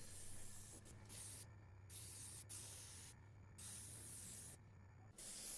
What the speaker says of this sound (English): For dyeing I love to use my airbrush, and I start always with a light coat of each color.